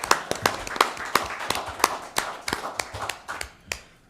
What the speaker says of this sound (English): I think we deserves a round of applause and a thank you